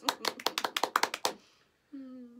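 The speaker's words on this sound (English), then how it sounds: "Can everyone clap fast?" Children clap their hands fast in a quick burst of about ten sharp claps over a little more than a second, followed by a short pause and the start of a voice.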